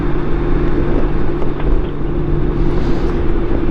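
Steady roar from a Honda motorcycle cruising the 210 freeway in LA County, with wind and road noise filling the whole stretch, loud and continuous, no voices.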